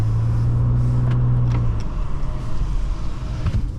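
A 2011 Nissan Maxima SV with a CVT pulls away, a steady low engine drone and road rumble heard from inside the cabin, easing after the first couple of seconds into a softer rolling hum.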